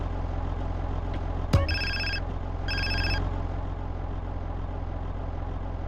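A phone ringing in the video game GTA San Andreas: a sharp click, then two short bursts of electronic ringing over a constant low engine-like hum, no talk.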